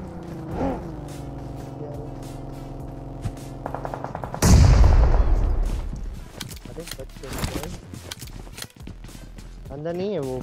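A burst of loud gunfire erupts midway, with sharp repeated shots and rumbling booms amid game sounds and scattered voices.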